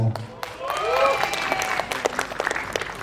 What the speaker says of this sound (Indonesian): tepuk tangan dong Pak David.